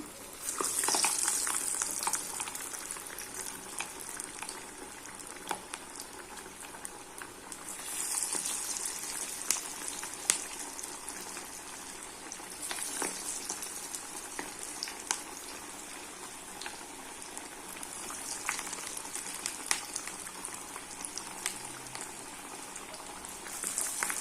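Masala vada frying in hot oil over a medium flame, a steady dense crackle and bubble running throughout with occasional sharper spits, close and alone with no voices.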